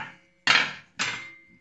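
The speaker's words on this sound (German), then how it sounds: "dann als nächstes müssen wir die Einlegeplatte heraushebeln." A flat screwdriver prying the insert plate out of a Bosch GTS 10 XC table saw gives two sharp, close knocks about half a second apart, each ringing briefly before fading.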